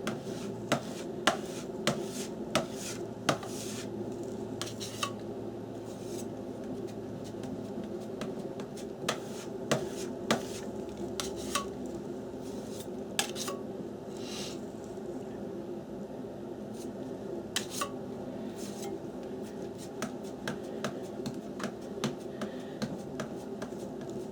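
Flesh-toned paint is mixed on a palette in an artist's studio for a large canvas. Sharp, scattered clicks and soft squishy taps come at an uneven rhythm over a steady low background hum, with no one talking.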